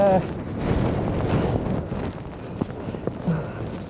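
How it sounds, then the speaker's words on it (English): Strong gusts from Storm Darragh batter the microphone on the Skegness seafront, a loud, rough buffeting roar that swells and eases with sharper bursts toward the end. "Oh wait, wow. It's windy."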